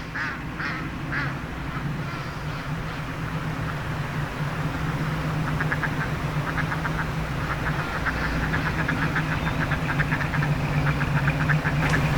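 Ducks quack in repeated rapid bursts at moderate distance, over a steady low engine-like hum, on the Appalachian Trail near Boiling Springs, Pennsylvania.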